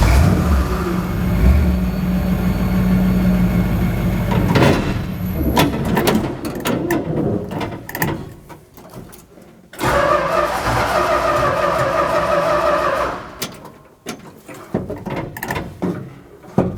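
A Dodge A100 van engine runs close by, with knocks and door or latch clunks, then the engine note shifts and cuts in and out as the van moves back, ending in a quieter stretch with clattery mechanical noises.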